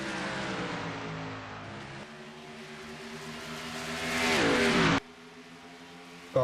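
Stock car engines from a racing video game at Charlotte Motor Speedway roar in a tonal drone that swells to a loud rising whine, then cuts off abruptly before a lower engine hum continues.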